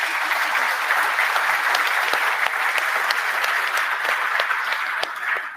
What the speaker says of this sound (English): please do put your hands together to say thank you.